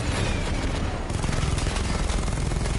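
Sustained, dense gunfire from the Batman: Arkham Knight video game, a continuous loud barrage of overlapping shots with no pauses throughout.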